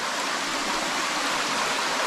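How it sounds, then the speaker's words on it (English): Creek water pours steadily down a wet rocky cascade into the creek below, a constant broadband rush with no breaks, close and fairly loud throughout. "it's a second cascade straight after it. Just dropping into the creek"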